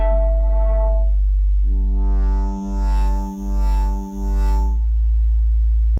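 A synth bass built from a sine wave with erosion and saturation plays a loud, buzzing, harmonically rich tone, shifting to a new note and pulsing with auto-pan movement before cutting off.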